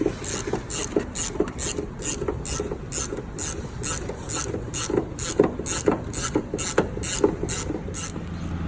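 Ratchet driving a 10mm socket on a minor extension to remove a bolt on a 2004 Chevy Trailblazer, giving a steady run of rapid clicking pawl strokes close up with scraping rubs, no talking.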